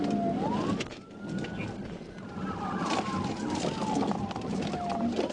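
A police car siren during a pursuit wails and sweeps up and down continuously, moderately distant beneath road and engine noise, with no talk over it.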